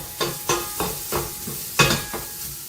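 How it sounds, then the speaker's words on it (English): Bacon frying in a pan alongside onion and potato, with a steady sizzle under a series of sharp stirring scrapes and clinks at a regular beat, close and fairly loud. "the bacon will keep cooking."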